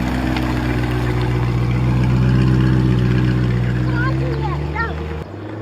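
A new car pulls away in drive, its steady engine and road hum loud from inside, with voices talking over it before the sound drops off abruptly near the end.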